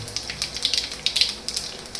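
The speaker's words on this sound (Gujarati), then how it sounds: "અને થોડી રાઈ નાખી દેવાની" Mustard seeds crackle in hot oil while tempering spices for pohe, giving scattered light pops over a faint, steady hiss.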